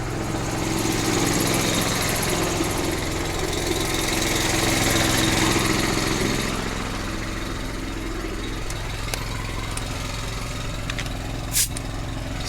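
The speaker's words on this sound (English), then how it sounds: "So we're gonna oil up our impact wrench. Get a little F2 oil going through there." A pneumatic impact wrench, freshly oiled with F2 oil, runs free in a tire shop with a loud, steady whirring roar for about six seconds, then cuts out, leaving quieter background noise and a sharp clack near the end.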